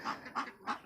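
Three short nasal honks from China Peru ducks at a zoo, evenly spaced and close, with no talk over them.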